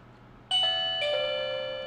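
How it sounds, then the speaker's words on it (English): A Dzees wireless doorbell camera plays its chime: two bright ding-dong tones ring out close and clear against a quiet room hum, with no talking. "it actually is saying the doorbell is ringing."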